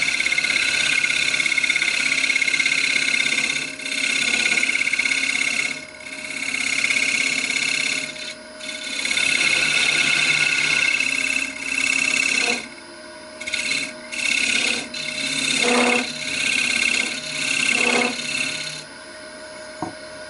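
A wooden lidded form is trimmed down, giving a continuous rasping, scraping sound of a cutting tool on spinning wood, steady and close, with brief pauses and changes in pressure toward the end.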